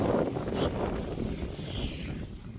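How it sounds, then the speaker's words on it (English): Wind gusts across an allotment garden, a broad rushing roar buffeting the microphone with no one speaking. "A little bit breezy today."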